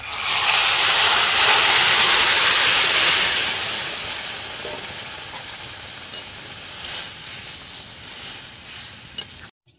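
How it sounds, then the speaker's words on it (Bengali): Mung dal poured into a hot pan with ginger and cumin paste, giving a loud, steady sizzle that swells at first and then settles into a quieter, continuous frying hiss before ending abruptly. "এবার ডালটা ঢেলে দেবো"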